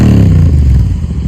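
Several motorcycles rumble on a rural road at sunset, their engines loud and close with a steady low drone and some revving.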